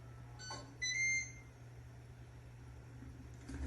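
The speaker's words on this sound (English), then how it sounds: "so you can hear the sound when it goes" Ninja Foodi Dual Heat Air Fry Oven timer going off in a kitchen: a brief cluster of electronic beeps, not especially loud, over a low appliance hum, then quiet.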